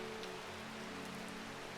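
Steady rain falling in the video game Strange Horticulture, a soft continuous hiss of rainfall on surfaces with faint droplet patter, quiet and unbroken, with no talking.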